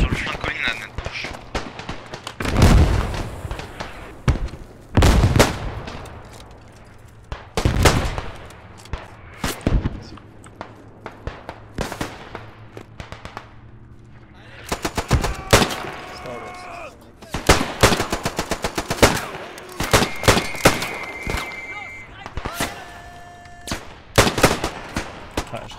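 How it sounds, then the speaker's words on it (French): A Chauchat machine gun fires in the World War I game Beyond The Wire, sharp bursts and single gunshots cracking near and far amid battlefield noise, with people talking over the shooting. "Cette chaucha nous fait chier là. Elle est sur le flanc colline à notre gauche."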